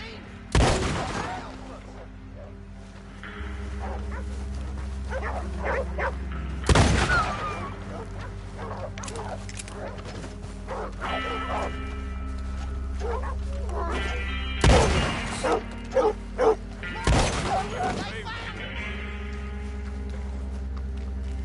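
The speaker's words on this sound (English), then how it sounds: "It's just dogs gone crazy." Crazed dogs in a PS4 video game barking and yipping in scattered bursts, punctuated by several loud gunshot-like blasts, over a low droning game soundtrack.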